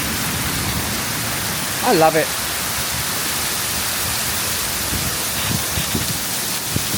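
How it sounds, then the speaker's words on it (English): A heavy rainstorm in China pours down as a steady, loud hiss throughout, with a brief voice speaking over it near the start. "Oh my God, look at this storm."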